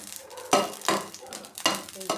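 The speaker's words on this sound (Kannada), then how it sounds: "ಮೊದಲಿಗೆ ಸ್ಟವ್ ಎಣ್ಣೆ ಹಾಕಿ ಹಸಿಮೆಣಸಿಕಾಯಿನ ಉಟ್ಕೋಬೇಕು" Green chillies frying in hot oil on a stove, with a crackling sizzle and several quick, loud stirring scrapes against the pan in uneven bursts, heard up close without speech.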